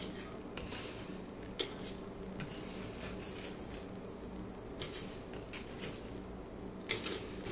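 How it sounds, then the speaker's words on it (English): Chocolate chip cookies are lifted from a glass pan onto a cooling rack, giving a handful of quiet, sharp scraping clicks and light metallic taps spread across a low kitchen hum. "I can take them off of the pan and start putting them on the cooling rack here"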